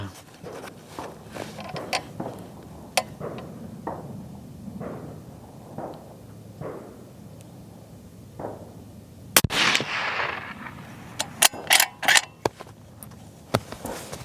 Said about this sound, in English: This Norma ammo is kind of annoying to get in and out of these.